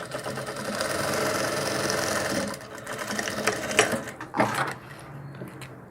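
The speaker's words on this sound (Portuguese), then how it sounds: "Um pezinho de máquina, dou um retrocesso." A sewing machine stitching a doll's cloth dress runs in a fast, steady whir for a couple of seconds, then slows into a few short bursts of a backstitch, close and clear without talk.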